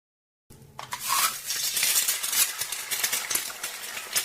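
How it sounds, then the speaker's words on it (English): A busy kitchen where someone is cooking a meal, full of stirring, clinking cutlery, rattling pots and pans and a sizzle of frying. The clatter is dense and continuous after a short silent start, with no talking. "My favourite sound is the sound of a busy kitchen, especially if someone's cooking a meal for me."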